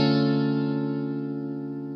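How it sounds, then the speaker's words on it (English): A single minor major 7th chord, the James Bond chord, rings out on guitar with effects, sustaining smoothly and slowly fading over two seconds, with no voices. "This chord is of course known by me and many other musicians as the James Bond chord."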